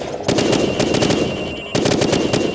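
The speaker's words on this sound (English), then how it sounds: "Now, shoot at the targets while firing from the hip." Automatic rifle fire in Call of Duty 4: Modern Warfare, fired from the hip at range targets: two rapid bursts of sharp, loud gunshots, close and crisp, separated by a short pause.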